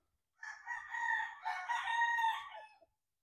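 A White Kelso broodcock crowing once, a single drawn-out, loud call close by that rises and holds for about two seconds before trailing off into quiet.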